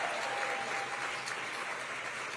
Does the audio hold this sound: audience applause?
yes